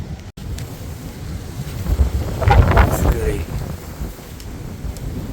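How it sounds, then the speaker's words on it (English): Storm Eowyn wind roars outdoors with gusts around 50 miles an hour, a steady rushing roar that swells into a strong gust midway before easing, with wind buffeting the microphone. "There's just constant roar up in the sky with these sudden powerful gusts."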